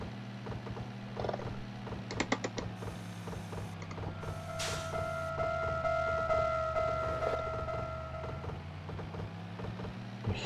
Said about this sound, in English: Hear the rumbling of the diesel engine as we pull into Umahori.